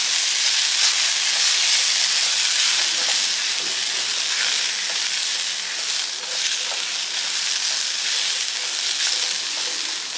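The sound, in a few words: onions and poppy seeds sautéing in a pan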